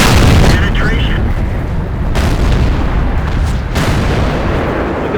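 A tank cannon shot landing a penetrating hit in a heavy tank battle video game, with a loud deep boom and dense rumbling blasts filling the scene and a couple of sharper impacts.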